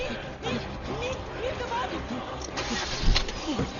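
A jeep engine cranks and starts amid a tense escape scene in a film, its mid-range mechanical churn heard under shouting voices and general commotion throughout.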